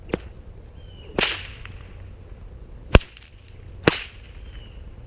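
Four sharp cracks of an 8-foot-3 kangaroo-hide bullwhip ring out at irregular intervals, each a crisp snap echoing against quiet background hiss, one crack especially loud.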